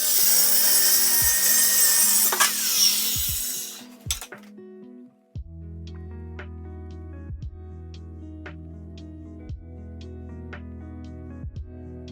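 Hand saw cutting a wooden plank clamped to a table during a workbench build, a few seconds of loud, rasping strokes, then quieter clinks and knocks from tools and wood.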